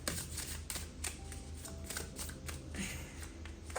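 Tarot cards being shuffled by hand in a steady, close riffling and rustling run with soft slaps, alone and without talk.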